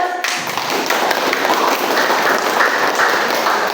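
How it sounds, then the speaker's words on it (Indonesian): An audience applauds together in a dense, steady wash of clapping that starts abruptly and continues at an even level throughout, loud and close. "Oke, kasih aplaus."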